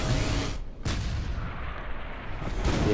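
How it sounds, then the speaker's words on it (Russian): Fortified artillery fires in the strategy video game Supreme Commander, heavy booming shots at the start and end over a constant rumbling battle din. "Артиллерия укрепленная начинает стрелять по объектам."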